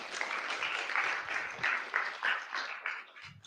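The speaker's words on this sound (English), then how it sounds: "Big round of applause for Rachel." Audience at a product talk event giving a round of applause, dense clapping that rises and falls in waves before fading out near the end.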